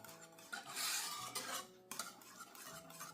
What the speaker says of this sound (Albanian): Vazhdojmë përzijmë tani mirë, derisa kremat të na lidhen dhe të na bëhen bashkë.